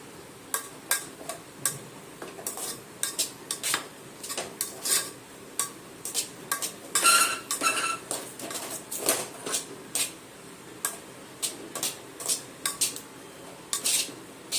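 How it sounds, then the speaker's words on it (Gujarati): A knife stirring lapsi in a metal pot after oil is added, giving repeated sharp clinks and scrapes in an uneven rhythm, close and fairly clear, with no talk. "તેલ નાખ્યા પછી આવી રીતે છરીથી હલાવી નાખવાનું"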